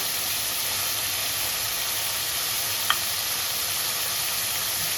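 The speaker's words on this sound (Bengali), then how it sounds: "চিংড়ি মাছটা আমার ভাজা হয়ে গেছে" Prawns fry in oil in a kadai with an even, steady sizzling hiss throughout and a single faint click partway through, close by and with no talking.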